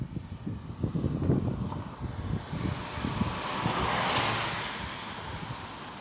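A Boston T train passes outdoors with a broad, rushing rumble that swells toward the middle and then eases, mixed with wind-like noise and no talk.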